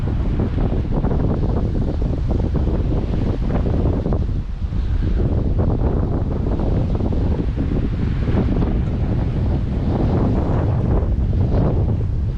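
Strong wind buffeting the microphone with surf washing beneath on the Gulf of Thailand shore at Laem Nok, Pattani, a loud continuous roar with no voices.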